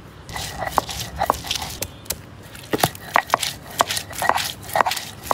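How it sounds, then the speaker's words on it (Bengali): Ginger, garlic and mustard seed are ground by hand on a shil-pata grinding stone: a close, loud run of scraping strokes and sharp knocks at an uneven rhythm. "চাচি শিলপাটায় মশলা বেটে নিচ্ছে।"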